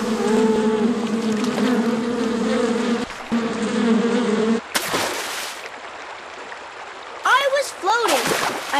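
A steady bee buzz drones close by for several seconds, then cuts out into splashing pond water and bursts of movement.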